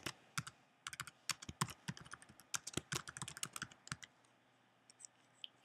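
Rapid clicking of a computer keyboard as headline text is typed into a web page editor, a quick, irregular run of close keystrokes that thins out and stops near the end.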